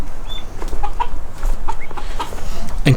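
Ancona bantam chickens from a Livorno bantam line give scattered soft clucks and brief calls over a steady background hum, moderately close, with no talking.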